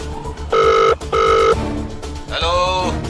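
A telephone rings on the line while an outgoing call is placed, with two close, loud electronic ring bursts and then a warbling tone, and voices in the background.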